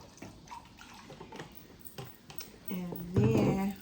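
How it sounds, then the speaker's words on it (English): Drink mix poured into a glass for a cocktail, a soft liquid splash and gurgle that swells near the end, preceded by faint clinks and ticks at close range. "And then I'm gonna pour a little mix in there."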